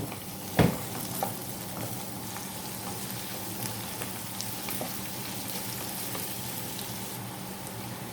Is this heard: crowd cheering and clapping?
no